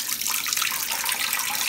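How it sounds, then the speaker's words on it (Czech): Tap water pours steadily into a bathroom washbasin, a close, even, hissing splash that holds unbroken throughout with no voices. "Napouštíme vodu."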